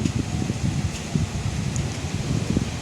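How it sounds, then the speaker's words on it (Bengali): Strong wind gusting through trees during a storm with rain and lightning, a steady, rough, close rumble with buffeting on the microphone, continuous throughout with no talking. "কি পরিমাণে হাওয়া দিচ্ছে।"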